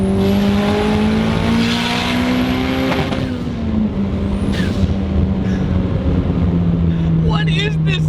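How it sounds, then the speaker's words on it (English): A Hyundai Genesis Coupe 2.0T with a Precision 6262 turbo, making about 520 horsepower, pulls hard on high boost, its engine droning steadily while a high turbo whistle rises, drops at a shift, then builds again. "It makes a real nice turbo sound from the 6262 Precision."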